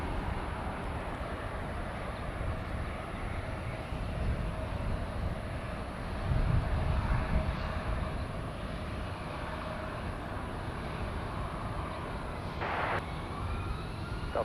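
An airliner touching down at LAX produces a steady distant jet rumble and broad roar, with a brief louder low thump near the middle of the sound.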